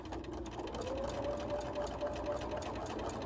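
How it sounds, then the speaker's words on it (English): A sewing machine stitches a quilt panel with matching thread, a steady rapid mechanical whir that runs close and unbroken for several seconds. "So I'm just gonna, with a matching thread,"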